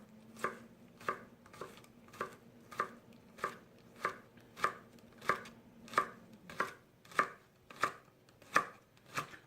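A knife chops leeks on a cutting board in a steady rhythm of about fifteen crisp, evenly spaced strikes, close and clear with no talk.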